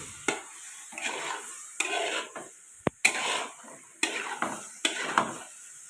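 Spoon stirring thick carrot cheese halwa in a pan, with repeated scraping strokes and occasional sharp clinks against the metal at a steady rhythm, close and moderately loud, no talking.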